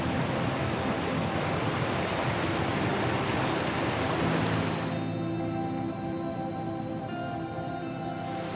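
Water in Canal Creek along the Old Telegraph Track flows steadily in a broad, rushing wash, close and loud throughout, with no voices over it.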